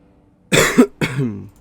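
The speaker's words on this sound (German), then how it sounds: "Verzeiht mir, falls ich ab und zu husten muss" Two close, harsh coughs from a person with a cold, loud and near, a short burst and then a second rougher one, with no talking over them.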